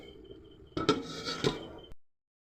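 A lid clatters onto a metal pot of cauliflower dalna curry on the stove: two close, fairly loud knocks and a scraping rattle of metal on metal. Then a brief settling sound as it fits in place, followed by quiet.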